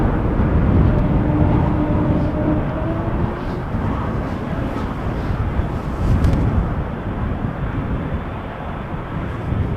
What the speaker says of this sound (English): an E2 Embraer E195 KLM flight 937 to Dublin, a 1-year-old plane